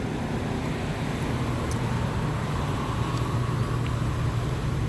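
A 1991 Cadillac Sedan Deville idles outdoors, a smooth, quiet, even low hum with no knocking or ticking, steady throughout and heard alone.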